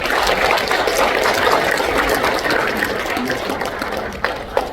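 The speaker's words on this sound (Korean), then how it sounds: "박수 부탁드리겠습니다." Audience at a Korean civic rally applauding an introduced elder speaker, a continuous dense roar of clapping that holds steady and slowly tapers toward the end.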